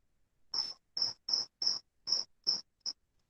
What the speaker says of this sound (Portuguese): tem um grilo cantando aí